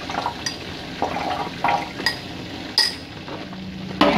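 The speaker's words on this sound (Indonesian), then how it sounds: "Kita aduk lagi" Peanut sauce for siomay and batagor is stirred in a pan, with a spoon scraping and clinking against the metal in irregular knocks every half second or so over a low, thick bubbling.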